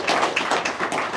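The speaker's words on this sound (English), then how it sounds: "it will be round of applause for all the dads" A live audience at a breakfast podcast recording claps in a brief, scattered round of applause, quick overlapping hand claps.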